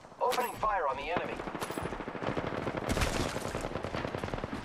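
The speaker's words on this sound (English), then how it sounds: "Opening fire on the enemy." Rapid automatic gunfire in the Apex Legends video game rattles in dense bursts with a brief voice line at the start, continuous and close throughout.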